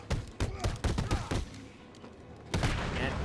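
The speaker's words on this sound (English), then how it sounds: "Oh, I'm getting shot." Rapid gunfire bursts from enemy thugs in a Batman video game, loud sharp shots in quick clusters for the first second and a half, then a dip and another heavy burst near the end.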